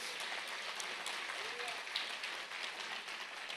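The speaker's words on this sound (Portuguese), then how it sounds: "Você pode dar uma salva de palmas a esse Jesus?" A church congregation claps in a sustained round of applause during a sermon, a continuous crowd patter with faint voices mixed in beneath it.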